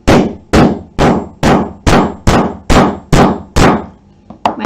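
Nine evenly spaced hammer bangs ring out loud and close as a part is driven firmly into place while sewing a crossover hood with a kangaroo pocket, followed by a few quicker, softer taps.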